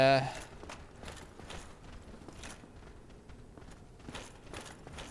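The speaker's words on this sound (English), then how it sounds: "I hear every footstep in the world." Footsteps in the video game Dark Souls Remastered, a steady series of soft thuds and scuffs at a walking pace, fairly quiet, with a clunky clip-clop quality.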